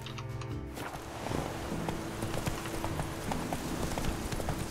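Steady clip-clop of horse hooves at a brisk walking pace, close and fairly loud, over a low ambient background in the video game The Witcher 3.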